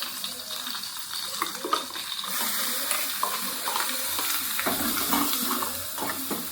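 Water splashes into a pan of crab chutney during cooking, a soft continuous pouring gush under intermittent talk and kitchen clatter.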